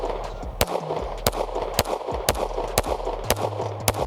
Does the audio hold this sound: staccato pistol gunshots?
yes